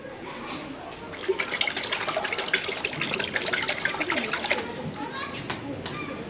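Cold water pours and splashes over a hot wax-and-beeswax-coated tiny art piece in Madagascar, a continuous trickling wash with irregular splatters, while people talk nearby.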